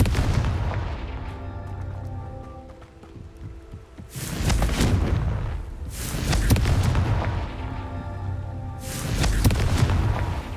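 A blasting fire spell in a video game goes off in three separate booming bursts, each a loud broadband explosion with deep rumble and a fading tail, spaced a couple of seconds apart over a low, steady background.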